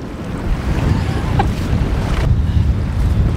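Strong wind and choppy waves on a wet, windy Maine lobster boat ride to haul the first trap, a loud steady roar of buffeting wind noise and water wash, with no talk.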